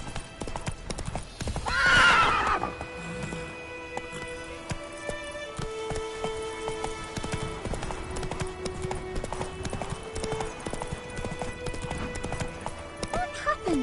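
Roach, the Witcher 3 horse, lets out a loud neigh near the start, then gallops with fast, continuous hoofbeats. Game ambience runs underneath, and people talk over parts of it.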